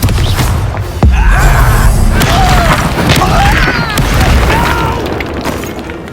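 An Expelliarmus spell blast bursts with a loud boom in the Hogwarts Legacy video game, followed by rushing magical whooshes and swirling tones amid continuous game sound, with a voice speaking briefly.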